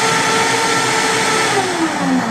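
A loud kitchen blender whirs continuously as it blends a smoothie, its reversing blade giving a steady high drone that shifts slightly in pitch as it runs, with no talking over it.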